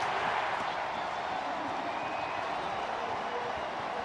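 Loud, steady roar of a stadium crowd at a Cincinnati home opener NFL game against Jacksonville at the Jungle, a dense continuous wash of cheering with no break across the stretch.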